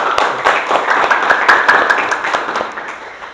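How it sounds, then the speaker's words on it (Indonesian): Students in a classroom clap their hands together, a loud, busy patter of many small claps with sharp individual strikes standing out, tapering off near the end. "Kita tepuk tangan dulu ya."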